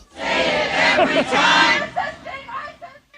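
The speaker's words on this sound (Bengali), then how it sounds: "মিনিয়াপোলিস শহরে তীব্র ঠান্ডার মধ্যে হাজার হাজার মানুষ রাস্তায় নেমে আইসিই সদস্যদের প্রত্যাহারের দাবিতে বিক্ষোভ করেন" A protest crowd fills a street in Minneapolis in bitter cold, with loud shouting and cheering voices swelling and dipping, then breaking into shorter chanted bursts toward the end.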